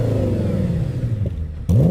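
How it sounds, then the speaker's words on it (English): An Audi S8 engine revving up close, a deep throaty drone that falls away briefly before a sharp fresh blip of throttle lifts it again near the end. "Rev yours again just to remind us."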